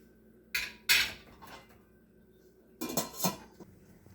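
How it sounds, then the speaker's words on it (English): A metal lid clatters onto a pot of browning ground beef on the stove: a sharp clank and a louder rattling one close together, then a second pair of clanks a couple of seconds later, close and with no talking. "I'm going to put the lid on the pot"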